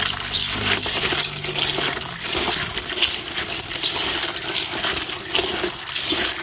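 Running water pours steadily over bitter gourd seeds in a strainer as they are washed, a continuous close splashing rush with no speech.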